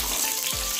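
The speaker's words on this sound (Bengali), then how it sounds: "বড়ি দিব, সাদা তেল দিচ্ছি, বড়িটা ভাজবো।" Bori lentil dumplings sizzle in white oil in a pan, a brief, close, continuous crackle with a faint stirring scrape.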